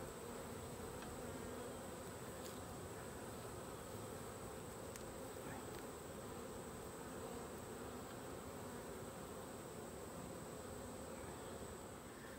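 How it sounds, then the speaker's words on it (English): Honeybees buzz around an open hive in a dense, steady drone that fills the air at low level throughout, with a faint high whine above and no talking. "There are bees like craziness,"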